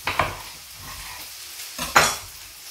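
Onions frying in a pan make a low background sizzle, broken by two louder scraping stirs near the start and middle, close and clear, with no talking.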